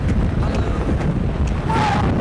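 Gusting wind with heavy rain pounds outdoors around a 1975 VW-powered trike, a dense, steady low rumble of buffeting air filling the whole stretch, with a brief whistling tone near the end.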